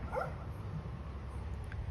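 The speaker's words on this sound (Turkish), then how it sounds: "Sahiplendirdiğimiz köpekleri" Akbash dogs outdoors give one faint, distant bark early on, followed by quiet ambient background with a low rumble.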